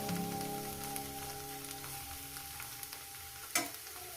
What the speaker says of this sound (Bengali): আর শাকটা তখন ভাজা হচ্ছে